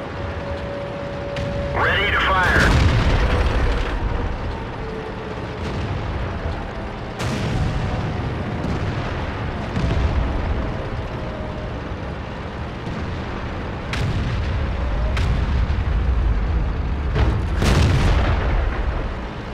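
Tank cannon shots in World of Tanks with a Type 59 on the Lakeville map: several heavy, booming blasts spaced seconds apart over a rumbling engine drone, with a brief voice line between shots.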